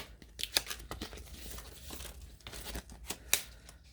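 Stampin' Up! dies being unwrapped from their packaging, with soft crinkling and brief tearing bursts of plastic and paper at close range, irregular and quiet with no talk.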